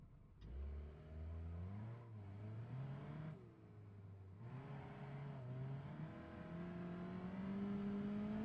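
A car engine in the BeamNG Drive driving game hums and revs through rising and falling gear changes, a clean, steady mid-pitched drone with no voices over it.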